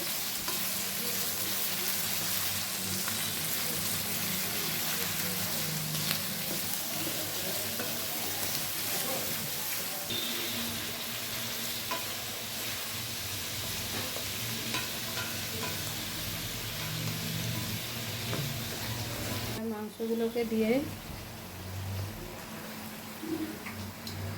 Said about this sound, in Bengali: তেজপাতা, গোটা গরম মশলা, গোলমরিচ সব দিয়ে এবার পেঁয়াজ দিয়ে পেঁয়াজগুলোকে লাল করে ভেজে নিচ্ছে।